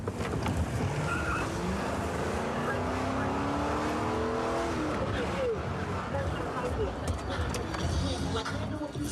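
Car accelerates with its lights switched off, a loud engine note rising steadily in pitch with some tire noise, with people talking over it throughout.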